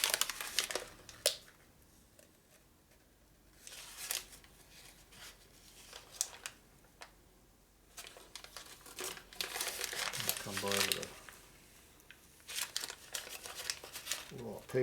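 Paper crumpling and crinkling in bursts while being moistened and handled in a motorcycle shop, with someone talking over parts of it.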